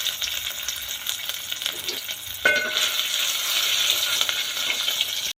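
Chopped onion and ginger-coriander paste hit hot oil in a pan for misal, a steady close sizzle that jumps louder halfway through and carries on hissing, with no talk.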